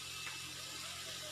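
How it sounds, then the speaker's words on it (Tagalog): Water poured from a tap or jug into a pot of sautéed chicken for chicken with pechay, a soft, steady hiss and trickle heard at close range and low level, with a faint background hum. "Saka natin lalagyan ngayon yan ng tubig."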